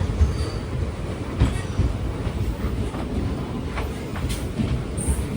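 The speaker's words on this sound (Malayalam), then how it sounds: "ട്രെയിൻ ഇപ്പോൾ അടുത്തൊരു സ്റ്റേഷനിൽ എത്തുകയാണ്." Train on a single-line railway rolling into a small quiet station, a steady rumble of wheels with clicks and faint squeals from the carriages, heard from on board without talk.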